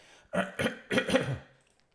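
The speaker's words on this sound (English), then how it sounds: "I don't know why I'm coughing so much lately" Several short coughs in a quick cluster, close and fairly loud, followed by quiet.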